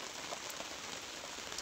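Rain falls in sunshine on a torn paper shade set up over cucumber plants, a dense, even patter that is soft and continuous with no voices.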